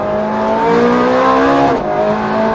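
A Ferrari F430 Scuderia engine howls at high revs on a racetrack, pitch climbing steadily to about 8,500 rpm in fourth gear, then dropping briefly at a gear change before rising again, loud and close.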